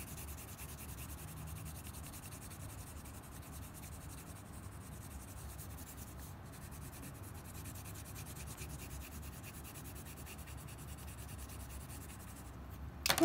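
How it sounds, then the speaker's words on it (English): A colored pencil is shaded back and forth across a sheet of paper with gradually lessening pressure, a faint, continuous scratchy rubbing close up and alone. "And work across our page, gradually lessening the pressure."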